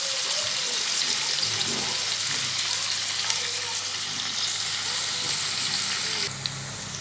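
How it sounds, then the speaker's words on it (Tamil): Salted dried meat and onions sauté in a pan with a steady, dense sizzle and frying hiss throughout, close and continuous, with occasional faint stirring and a slight shift near the end. "இப்போ நல்லா இது வந்து உப்பு கண்டமும் இது வெங்காயமும் நல்லா வதங்கி வந்துட்டுருக்குது"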